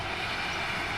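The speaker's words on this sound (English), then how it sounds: "pair of top and tailing Class 66s on an engineer's train" A top-and-tailed engineer's train worked by a pair of Class 66/7 diesel locomotives, 66707 leading and 66784 at the rear, passes Fenwick level crossing. A brief, steady, loud rail rumble fills the moment.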